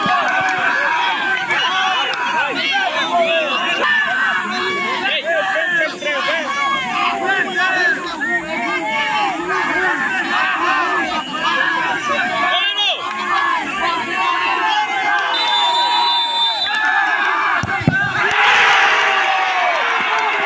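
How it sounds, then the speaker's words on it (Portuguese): A youth football penalty shootout between a local kids' football school and a rival club draws a loud, continuous roar of crowd cheering and shouting children, with commentary running under the noise throughout. "E a torcida parece que é maior da Escolinha Santa Maria, viu?"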